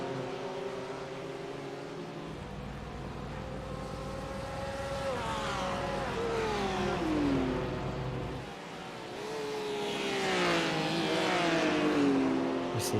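BMW GT3 race car in a sim racing game at Okayama, engine revving up through gears with rising and falling pitch sweeps, loud and close, accelerating out of slow corners and downshifting.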